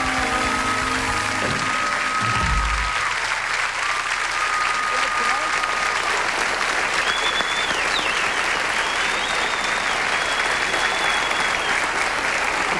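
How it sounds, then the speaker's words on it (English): Sustained audience applause at a country music variety show, dense steady clapping filling the whole stretch with a little crowd noise and a few brief tones early on. "Give yourselves a nice round of applause."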